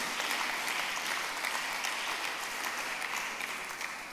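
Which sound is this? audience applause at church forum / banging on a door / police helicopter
audience applause at church forum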